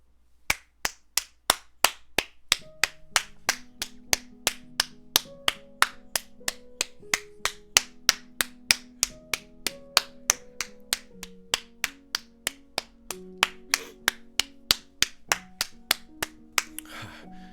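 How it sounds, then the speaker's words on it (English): Sharp, evenly spaced single claps repeat steadily for over fifteen seconds over a sustained musical drone, close and crisp with no talk. "I would like to ask you all to give a big round of applause to Jimmy Lee"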